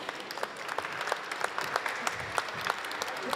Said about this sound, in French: je pense que vous pouvez encore une fois les applaudir.